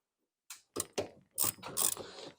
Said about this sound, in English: we'll go ahead and tighten this up. Got a 3/8 Allen socket on the bottom.